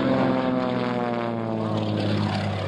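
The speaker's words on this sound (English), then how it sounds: "demonstrating again just a few warm-up maneuvers, making sure the airplane's ready to rock and roll" Propeller airplane with a fabric-covered steel tube fuselage flying warm-up maneuvers at an air national guard open house, a steady droning engine hum with strong harmonic tones, loud and continuous throughout.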